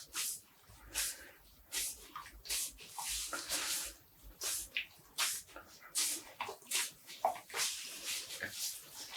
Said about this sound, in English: I'm squeezing out the water.